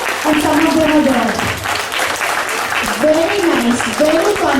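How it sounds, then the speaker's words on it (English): Clapping from children and staff at a school winter assembly, a loud steady patter running throughout beneath a voice speaking over it. "Let's all give them a big round of applause."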